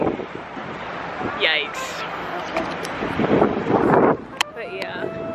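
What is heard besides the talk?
strong wind blowing into the microphone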